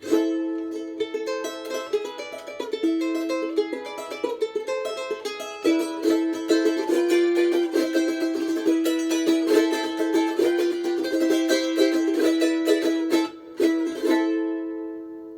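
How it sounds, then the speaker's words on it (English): A charango with a round sound box is played alone in bright, ringing strummed and plucked chords, the notes quick and sustained throughout before fading at the end. "this one is called charango"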